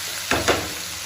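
Spices frying in a pan for a potol and dal dish, a soft background sizzle broken by two quick stirring scrapes close together near the start.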